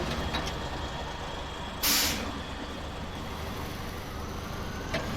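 A truck's air brake in the SnowRunner video game, on the Amur map, releases a single loud, sharp burst of hiss that quickly fades into a steady low engine idle rumble.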